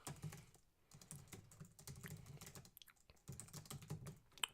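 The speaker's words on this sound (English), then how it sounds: "I'll just go ahead and start typing out the parameters." Quiet, rapid typing on a computer keyboard while entering programming parameters, a steady run of soft key clicks in irregular bursts with brief pauses and no talk.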